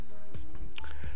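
A person takes a drink of water, with a few soft wet gulps and swallowing sounds, close and fairly quiet against a still room.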